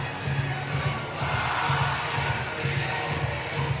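A full-capacity crowd at 121 Financial Ballpark in Jacksonville roars at a Savannah Bananas baseball game, a dense, steady wash of cheering and shouting with rolling low swells, loud and continuous throughout.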